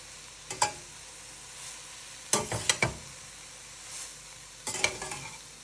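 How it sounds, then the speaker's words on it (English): Greens wilting in a hot pan for a Zuppa Toscana casserole, stirred and turned. Three bursts of scraping and rustling stir against a soft steady sizzle, close and clear, with no voices. "We're going to let that wilt. Just keep turning it so that it doesn't get stuck to the bottom."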